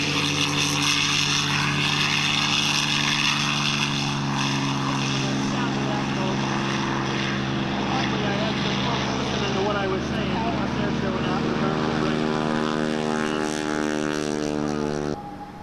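A P-51 propeller aircraft engine drones loudly and steadily throughout at an air show, its harmonic hum shifting slightly in pitch, with a voice talking over it.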